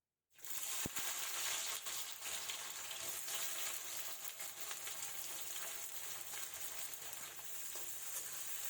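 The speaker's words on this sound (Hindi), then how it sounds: "प्याज स्लो भून रहा है।" Chopped onions sizzling slowly in hot oil for a red mutton curry: a continuous close, bright frying hiss that holds steady after a quick start, with a single light clunk early on and no talk.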